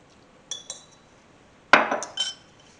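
Metal utensils clinking against a dish while Worcestershire sauce is stirred into food, a few light taps near 0.5 s, then a louder scraping clatter with quick follow-up clinks around 1.7–2.3 s, close and otherwise quiet.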